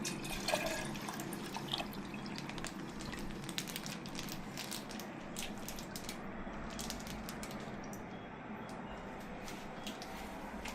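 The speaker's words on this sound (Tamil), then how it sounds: "ஃபர்ஸ்டே நான் குக்கர்ல வந்து கொஞ்சமா தண்ணி ஊற்றி வச்சிருவேன்" Steady, faint water pouring into a pressure cooker in a home kitchen, a continuous trickling wash with small splashes throughout, no talking.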